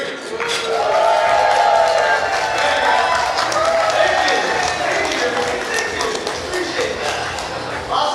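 A gala dinner audience cheering and whooping loudly together right after a count, a dense wash of voices that swells early and slowly tapers off.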